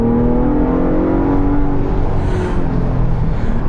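A loud 2026 Ford Bronco Raptor SUV engine drones steadily close by, its exhaust note rising and falling slightly as it revs, with no voices.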